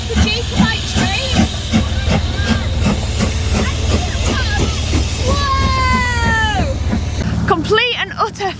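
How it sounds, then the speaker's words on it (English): The Jacobite steam train passes with a steady hiss and rumble of steam and rolling wagons near Fort William, while people nearby talk and shout excitedly over it. "The Hogwarts train, it's the Jacobite train!"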